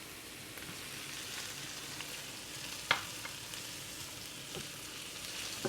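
Garlic and cumin-scented spices sizzle steadily in a hot pan, a dense, even frying hiss with a few soft clicks and one sharper tap partway through.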